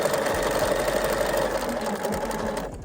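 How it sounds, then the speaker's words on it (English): Sewing machine running steadily, stitching a fabric pet bandanna in one continuous loud whir that cuts off near the end. "I'm going to stitch one more actually."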